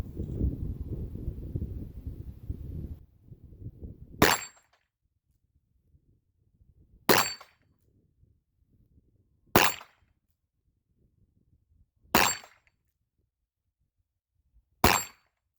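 Five loud, sharp shots from a Smith & Wesson 686 Plus .357 Magnum revolver striking steel plates, each a single crack with a ringing metallic ping, spaced a few seconds apart after a stretch of wind and shuffling.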